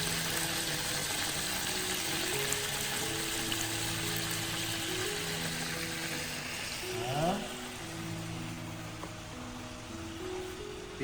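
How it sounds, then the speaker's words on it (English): Tofu fries in a hot pan with a steady, close sizzle and crackle that holds throughout, and musical tones and soft stirring sounds run over it. "The sizzling sound of tofu frying in the hot pan"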